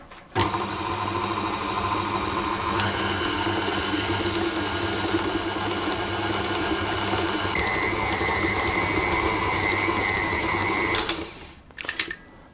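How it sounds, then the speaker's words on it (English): An electric mixer works ingredients into a dough, its motor giving a steady, loud whirring drone for about eleven seconds before cutting off near the end; no one speaks. "we'll mix that until it combines into a nice dough"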